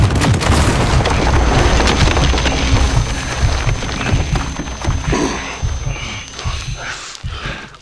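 Missile explosions in Call of Duty Modern Warfare roar as loud, continuous booming blasts with rumbling debris, easing into scattered crashes and thuds toward the end.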